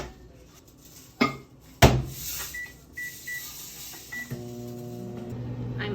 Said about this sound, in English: You microwave this for 3 minutes.